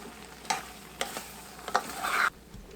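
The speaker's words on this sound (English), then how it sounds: "when it starts getting dry, you have to keep stirring, or you'll have some burnt sides to your peanuts" Sugar-coated peanuts are stirred in a pan as they dry, giving several scraping strokes and a short gritty rattle. The sounds are fairly faint over a quiet background, and no one speaks.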